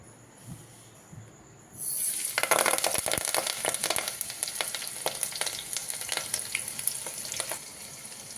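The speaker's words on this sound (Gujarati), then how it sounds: "મીઠો લીમડો લીધો છે લીલા મરચાં ઝીણા સમારેલા રાઈ અને લસણની કટકી એનાથી આપણે વઘાર કરશું" Curry leaves, finely chopped green chilies, mustard seeds and garlic pieces drop into hot oil for a tempering, bursting into a loud, continuous sizzle with sharp crackles and pops that runs to the end, no voices.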